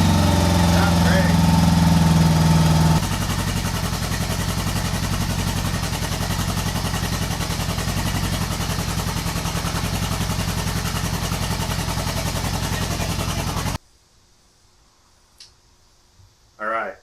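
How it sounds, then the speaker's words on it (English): A 1975 Honda Goldwing 1000cc motorcycle engine running rough on only two cylinders, loud and close with a steady idle-like drone that cuts off abruptly near the end, leaving near silence with a brief faint noise. "it's only running on these 2 cylinders"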